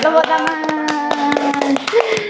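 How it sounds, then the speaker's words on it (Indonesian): An audience claps hands after a song at a music event, a rhythmic run of sharp claps layered over sustained sung or hummed tones and a voice. "Masya Allah, tepuk tangan."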